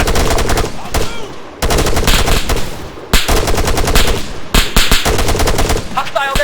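Gunfire in the Arma 3 bootcamp battle, with loud bursts of automatic rifle and machine-gun fire in rapid rhythmic strings, broken by short pauses and repeated close by over several seconds.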